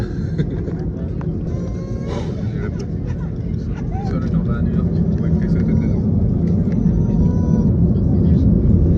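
An airplane beginning its takeoff run, a broad engine rumble that builds steadily louder over the seconds, with people talking close by over it.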